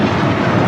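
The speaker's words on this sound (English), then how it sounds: "This is American Airlines 1202 taking off to Atlanta on the A321." American Airlines Airbus A321 on its takeoff roll at LAX, a loud, dense, unbroken jet engine roar in a brief burst.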